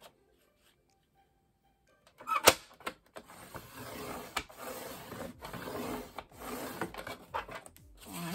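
A pencil draws ruled lines on a gift box and makes soft scratchy strokes in uneven bursts after a short silence, sounding close and fairly faint.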